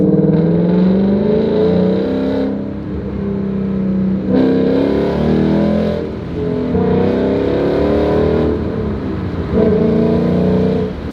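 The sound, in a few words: Ford Mustang with aftermarket exhaust revving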